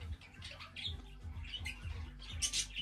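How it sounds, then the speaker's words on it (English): Small dwarf quails kept in a home workshop mini-zoo give soft chirping calls in short bursts, set over a steady low hum and a repeating rumble in the background. "We have our dwarf quail there."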